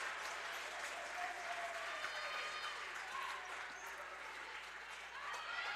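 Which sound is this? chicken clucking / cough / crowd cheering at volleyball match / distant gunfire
crowd cheering at volleyball match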